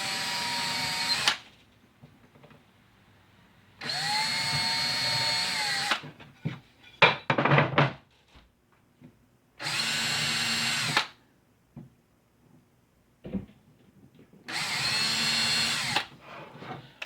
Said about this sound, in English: The package tells us to drill a 5/64 inch pilot hole at both of those locations.